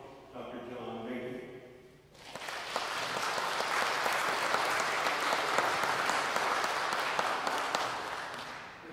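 Audience applause welcoming organist Dr. John Behnke at an Advent organ concert in Christ Church, a dense, sustained wash of clapping that bursts in after a brief spoken introduction and holds steady throughout.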